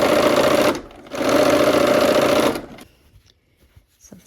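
A sewing machine stitching a quarter-inch seam on a Christmas tree quilt block, a steady close whirring run, a short pause, then a second longer burst of stitching before it stops and the room goes quiet.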